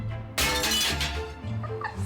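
Glass from a picture frame smashing as it is thrown into a rubbish skip at a dump: one sudden loud shattering crash, followed by a few tinkling, settling shards.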